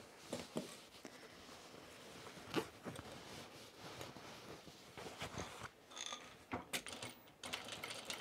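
A sewing machine fitted with a buttonhole attachment stitches zigzag on Ames jeans, giving a close, busy run of rapid mechanical clicks and ratcheting ticks with uneven bursts and short pauses.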